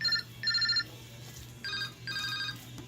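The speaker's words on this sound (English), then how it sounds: "That's my phone." A mobile phone ringtone goes off in bursts of repeated electronic chirps, loud and close, in a quiet room with no talking over it.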